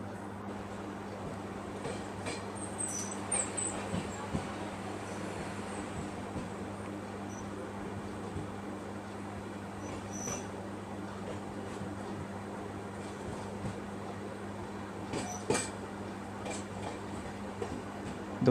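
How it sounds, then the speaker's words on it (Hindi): A passenger train hauled by an EMD diesel locomotive pulls out of Pokhran railway station in extreme heat, heard as a faint, steady low rumble and hum with a few small clanks along the way. "EMD लोकोमोटिव काफ़ी सेवा फराहम करते हुए 42 मिनट की देरी से अपना डिपार्चर अब हो रहा है पोखरन रेलवे स्टेशन से।"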